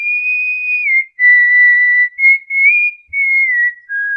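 A man whistles a slow, wavering tune in a film scene, several clear sustained notes with short gaps between phrases, close and alone.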